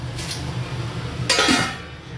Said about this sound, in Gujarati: ઢાંકણ ઢાંકી દઈશું